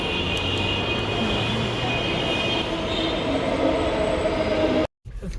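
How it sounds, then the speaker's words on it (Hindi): A loud rumbling roar of a metro train fills the clip, steady and close, with a high whine on top, then a sudden brief cutout near the end. "मेट्रो भी आ गई है हमारी।"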